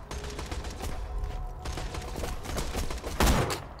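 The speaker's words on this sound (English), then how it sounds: "What are these shots I'm letting off?" Gunfire in the video game Borderlands 2, a fast run of overlapping shots over dense game noise, with one louder, heavier blast near the end.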